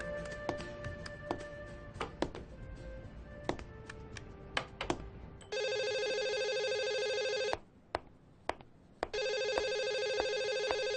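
A phone rings out on an outgoing call, electronic ringback tones in two long bursts, after a stretch of keypad presses and clicks; no talking.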